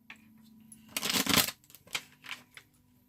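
Tarot cards riffle and slide against each other in a close, dense burst of papery shuffling, followed by a few softer flicks and snaps as individual cards are pulled.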